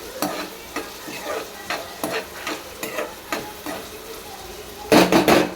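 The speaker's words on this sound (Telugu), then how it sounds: "ప్యాన్ మీద మూత అయితే తీసి మళ్ళీ ఒకసారి అంతా కలుపుకొని" Egg fry stirred in a pan of hot oil, with steady sizzling and a regular series of spoon scrapes against the pan, then a louder cluster of stirring clatter near the end, close up with no voices.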